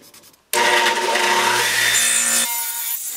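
A saw cuts a block off the end of a piece of wood for a bottle mousetrap, a sudden loud buzzing burst lasting about two seconds before it drops to a quieter hum.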